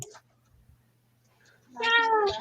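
A pet kitten lets out a clear, fairly loud drawn-out meow close by, with a short faint sound at the start and near silence in between.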